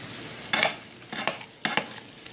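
Stew beef cooks in a pan on high heat, giving three short bursts of sizzling as the meat is stirred, with quiet pauses between them.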